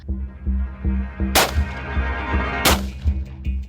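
Two sharp gunshots crack out about a second apart, standing out over a steady, throbbing low hum.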